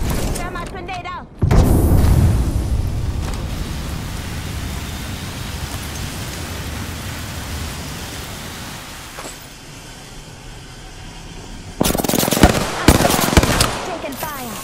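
Gunfire and explosions in a Halo-style shooter video game, with a loud dense barrage that fades into a steady rumble, then a second burst of sharp shots near the end.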